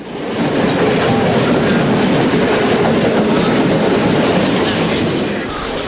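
A train travels to the coastal area where the 2004 tsunami struck, carrying the transport minister on a memorial journey. It rumbles and clatters loudly and close by, a continuous roar of wheels on rails with no talking.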